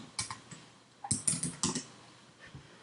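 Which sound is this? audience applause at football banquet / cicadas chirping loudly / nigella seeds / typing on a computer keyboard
typing on a computer keyboard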